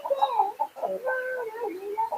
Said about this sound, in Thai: จะมีไก่หลายสายพันธุ์นะพี่น้องเนาะไก่สวยไก่งามไก่ตีเก่งเนาะ